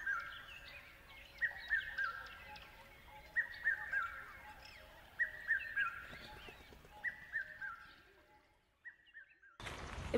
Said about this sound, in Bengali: কিন্তু এই ভেতরে আসার পর আর সেরকম কোনো শব্দ শুনতে পাবেন না, শুধু এই যে পাখির কিচিরমিচির ছাড়া।